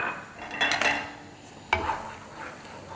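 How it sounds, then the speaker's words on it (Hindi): Gram flour and semolina being roasted and stirred in a pan over a medium-low flame for moong dal halwa, with a few close scraping and clinking strokes of a spoon against metal over a soft background hiss. "तो बस हमें बेसन को और सूजी को 5-6 मिनट तक भूनना है"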